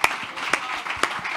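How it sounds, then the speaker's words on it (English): Audience applause for a panel at a resilience dialogue event, a dense, steady patter of clapping hands with a few sharper claps standing out, continuous through the short stretch. "please also give the panel a round of applause"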